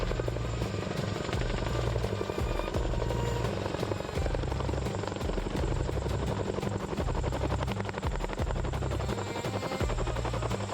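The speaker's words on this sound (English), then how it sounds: "We boarded the Chinook." Chinook twin-rotor military helicopter heard from on board, a loud, steady rotor and engine roar with rhythmic blade chopping throughout, no talk.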